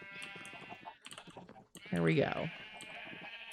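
Minecraft sheep bleats in a brief burst midway, loud against steady game background sounds and clicking, with a voice talking briefly around it.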